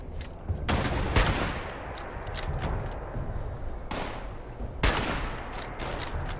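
Rapid bursts of automatic gunfire in a shooter video game, loud and close, with heavy volleys near the start and again near the end over a constant din of battle.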